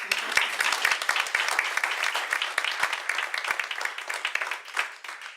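A crowd applauds steadily with dense overlapping clapping that tapers off toward the end, with no speech over it.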